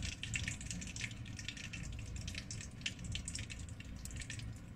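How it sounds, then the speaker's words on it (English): Red oil, a cup of it, poured into a cooking pot while making vegetable stew (efo riro), giving a steady, close liquid pouring and splashing sound that runs throughout without talk. "So I'm just going to start by adding my red oil to the pot."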